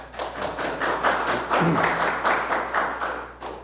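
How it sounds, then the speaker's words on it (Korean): Audience applause for master Jeon Byeong-hui at a gathering, a moderate burst of clapping from a smallish crowd with some soft thuds mixed in, steady for a few seconds then tapering off. "우리 전병희 마스터님께 박수 한번 더 주시죠"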